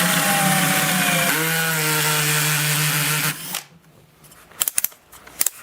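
A power drill whines loudly and steadily as it bores a pocket hole in wood through a jig, then spins down, followed by a few sharp clicks and knocks of the workpiece being handled.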